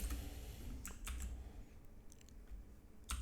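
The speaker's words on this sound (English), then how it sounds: "let me type this out." Keyboard typing on a computer, sparse clicks and short bursts of keystrokes over a steady low background hum, fairly close but quiet.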